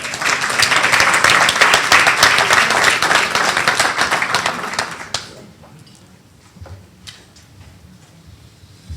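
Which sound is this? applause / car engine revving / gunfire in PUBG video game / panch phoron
applause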